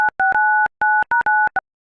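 Telephone ringback tone while a call is placed: a steady two-pitch electronic tone in repeated bursts with short gaps, loud and close, ending in a brief burst of noise.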